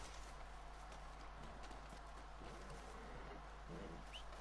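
Horse hooves clop in the video game Red Dead Online, a faint, steady run of hoofbeats over a low constant hum, with a soft bird-like chirp near the end.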